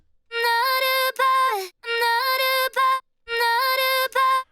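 An unprocessed vocal chop from an electronic track repeats in three sung phrases of bright, clean stepped syllables, each separated by short silences, loud and dry.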